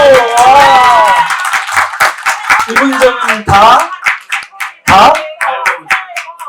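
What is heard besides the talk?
audience applause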